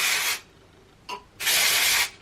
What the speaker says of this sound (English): That is the most aggressive spray I've ever encountered.